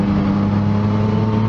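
A Yamaha MT-09 motorcycle engine runs with a steady, loud, close droning hum and no talk over it.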